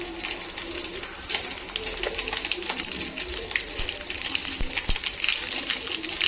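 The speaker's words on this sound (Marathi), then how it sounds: "वघारसाठी राई टाकते आहे" Mustard seeds are dropped into hot oil to temper dhokla. They crackle and sizzle steadily with dense, sharp pops and spatters, close and fairly loud, with no speech.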